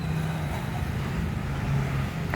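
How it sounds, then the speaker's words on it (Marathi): Steady road traffic rolls past near a hotel, with cars and vehicles making a continuous low rumble and a faint hum at moderate distance, without voices. "रस्त्यावरचं हे"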